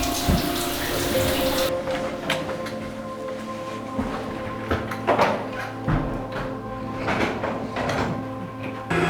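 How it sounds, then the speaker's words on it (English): A shower runs while someone brushes their teeth, a steady close hiss of spraying water that is broadest at the start, with scattered knocks and clatters against the constant rush and no talking. "I know y'all brush y'all teeth in the shower too"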